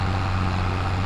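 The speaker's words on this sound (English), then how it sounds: "Now this tractor's struggling with this trailer." A tractor labors under the weight of a fully loaded wheat trailer in Farming Simulator 22, giving a steady, heavy engine drone with a strong low hum that holds unbroken throughout.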